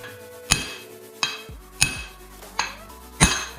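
Wheel lugs being driven in with a 2.5 pound hammer on a stretch mower outer axle, five sharp ringing metallic strikes at a steady pace, loud and close with no talking.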